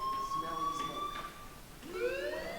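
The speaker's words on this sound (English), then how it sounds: "do you hear that fire alarm?" Fire alarm ringing at a school in the video game Life is Strange, a steady electronic tone heard moderately loud, with a rising siren-like whine near the end.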